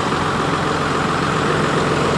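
A 2006 New Holland TM140 tractor engine idles, giving a constant dense rumble with broad noise that stays steady and close throughout, with no voices.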